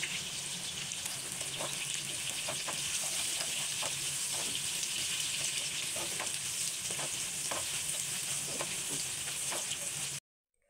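Sliced onions frying in hot oil for a Bengali coconut and dried-fish chilli dish, a loud, dense, steady sizzle with faint scraping stirs throughout, cutting off abruptly at the end.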